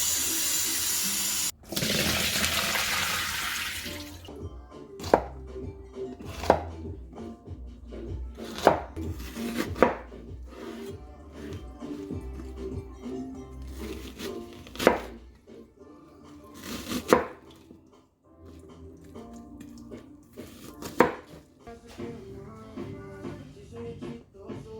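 Cauliflower being chopped on a cutting board: after a short burst of running water, a knife strikes the board in a dozen or so sharp, irregular, close chops separated by quiet gaps.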